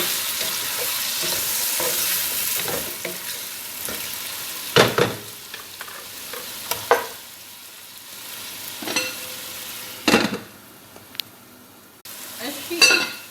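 Chopped onion frying for an okra chicken stew, a steady sizzle broken by a few sharp clinks and scrapes of a utensil stirring against the pot.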